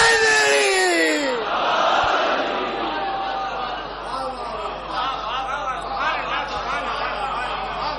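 A large majlis crowd roars a religious slogan in unison at a cleric's gathering, a loud sustained collective shout that swells, holds for several seconds and fades into overlapping voices.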